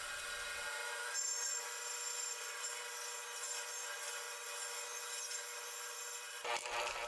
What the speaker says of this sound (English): Sanded it up.